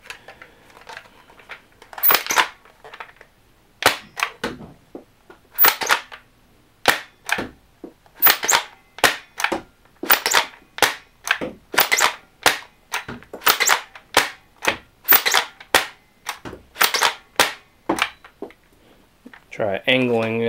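Air Zone Dual Ammo Blast toy blaster firing foam darts, around twenty sharp snapping pops spaced irregularly in quick succession, close and crisp against near silence.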